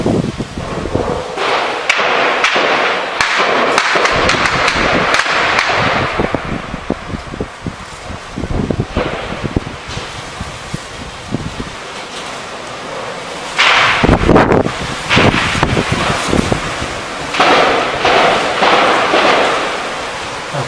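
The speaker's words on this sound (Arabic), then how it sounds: "إطلاق نار كثيف من قبل حزبي البر والقواص والكلية الحربية" Heavy gunfire after a demonstration in the Al-Waer district of Homs: dense bursts of sharp, cracking shots sound at mid distance over a rough, noisy background for the whole stretch.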